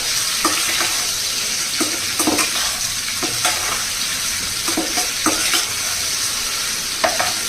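Salted bitter gourd pieces frying in a pan, a continuous loud sizzle with repeated scraping stirs at an irregular rhythm throughout, no talking.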